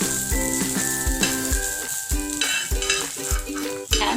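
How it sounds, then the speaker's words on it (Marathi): Coconut roasts in a pan as a spatula scrapes and stirs in a steady rhythm of knocks over a constant dry sizzle, close and clear, with no voices. "खोबरं छान आपल्याला ब्राऊन होईपर्यंत भाजून घ्यायचं आहे"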